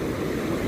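Ocean waves wash onto a shore in a brief, soft, continuous rush of surf with a faint windy hiss.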